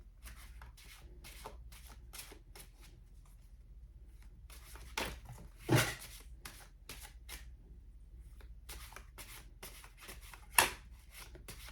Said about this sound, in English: I am starting to not like these cards in the way that they shuffle